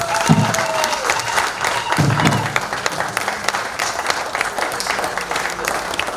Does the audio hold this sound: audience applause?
yes